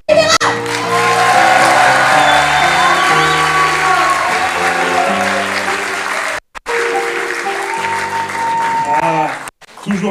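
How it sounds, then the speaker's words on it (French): An audience at a Paris improv festival applauds a performer, a loud sustained wave of clapping and cheering with music playing alongside, dropping out briefly twice near the end. "Faites un tonnerre d'applaudissements pour Baptiste de Rivera"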